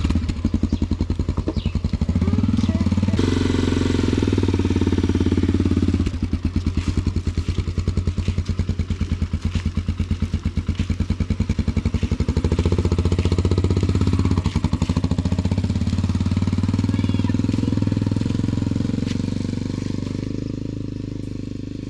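A motorcycle engine runs close by with a loud, steady, rapid thumping beat, revving slightly at times and easing off toward the end, with no talk over it.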